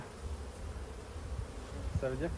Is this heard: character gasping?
no